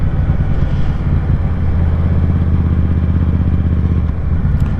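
Motorcycle engine droning steadily and close throughout a ride, a low rumbling hum with wind buffeting the microphone and faint rattling, no voices.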